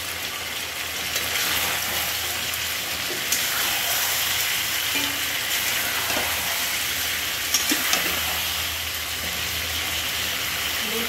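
Potatoes go into chicken kosha frying in a pan, producing a loud, steady sizzle with a few clinks and scrapes of stirring and a low hum underneath; nobody speaks.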